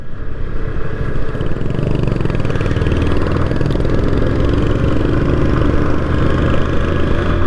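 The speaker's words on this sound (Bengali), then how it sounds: "ওই দেখেন রয়্যাল এনফিল্ড কীভাবে বাইক টানে কীভাবে" A Royal Enfield motorcycle engine thumps steadily on a hill road in Bangladesh, a loud, close, continuous low pulsing exhaust with a clattery mechanical edge and no voices.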